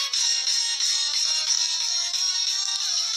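An itel phone plays a bright, tinny electronic startup tune while powering on, sustained and fairly loud through a small speaker with no talking.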